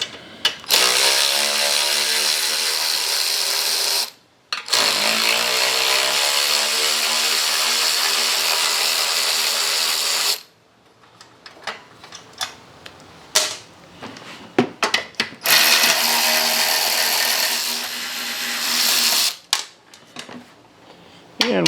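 A power tool on a Toro Recycler lawn mower shroud whirs loudly in two long bursts, then gives short ratcheting spurts and clicks before another sustained run, close by.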